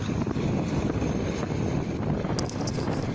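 Strong wind blasts across an open farm field, a dense broadband roar buffeting the microphone steadily for the whole stretch, with a brief brighter gust near the end.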